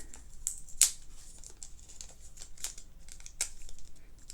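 Adhesive tape is pulled and torn off a roll to fasten a packaged cookie to a bamboo skewer for a snack bouquet. A few sharp crinkly rips stand out from a quiet background, one louder near the start, with no talk.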